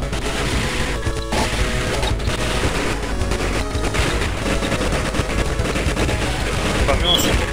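Dense, continuous rapid gunfire, laser shots and explosive blasts from a Game Boy Advance anime game, loud and unbroken throughout.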